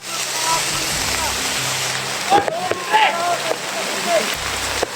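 Heavy rain pouring in a steady, loud hiss that fills the scene, with people calling out to one another over it.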